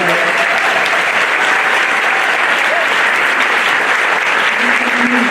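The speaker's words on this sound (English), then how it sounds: "And a round of applause for them." A large audience applauds steadily and loudly at a school band festival, a dense, continuous wash of clapping filling the hall without pause.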